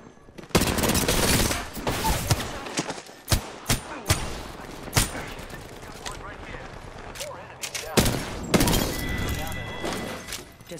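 Rapid gunfire bursts in the Apex Legends battle royale shooter, with repeated sharp shots and clustered volleys over a busy game background, mostly close and loud.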